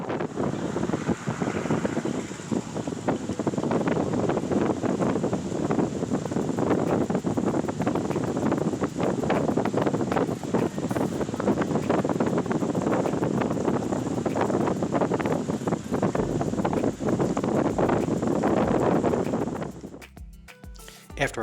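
Strong wind buffets the microphone on a calm-water shore in Roatan, a loud continuous roaring rush lasting about twenty seconds before cutting off abruptly.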